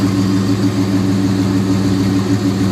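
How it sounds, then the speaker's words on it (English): Dodge Charger with a V8 engine at a classic car run, idling close and loud with a steady, deep, throbbing rumble and no voices over it. "one of the cars I wanted to see leave was this big old Dodge, the Dodge Charger."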